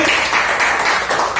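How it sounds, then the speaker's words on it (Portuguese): A church congregation applauds during a worship service, a dense, steady wash of clapping filling the room with no clear gaps. "Pode aplaudir ao Senhor com alegria."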